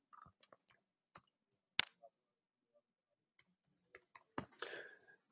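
A computer keyboard is typed on at close range in a series of sparse, irregular clicks with short pauses between bursts and a small cluster of keystrokes near the end, with no talk.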